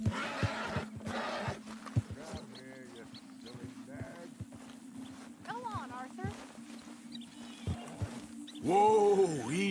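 A horse in Red Dead Redemption 2 gives a loud, close whinny near the end, after a stretch of quieter in-game movement and ambient noise, with voices talking throughout.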